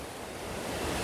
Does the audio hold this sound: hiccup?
no